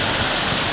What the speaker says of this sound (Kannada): ತುಂಬ ಜೋರಾಗಿ ಇರು ಮಳೆ